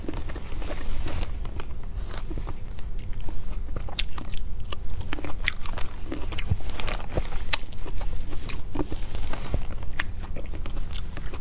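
Close-up ASMR biting and chewing of green ice cream cookies, loud crunchy bites and continuous wet mastication with sharp crackling snaps, no talking.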